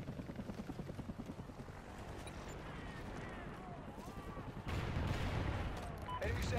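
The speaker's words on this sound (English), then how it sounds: "Chopper inbound." A helicopter in Call of Duty Ghosts thumps with a rhythmic rotor beat amid heavy gunfire and explosions, growing louder partway through, with in-game voice callouts over the battle.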